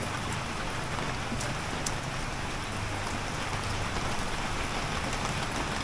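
Steady rain falls and patters on a surface, a constant dense hiss with no voices.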